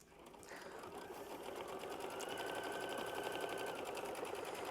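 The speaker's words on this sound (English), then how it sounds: "we're going to show machine stitch step 6" A sewing machine stitches a quilt block, its close, fast needle chatter rising in speed and settling into a steady, even whir.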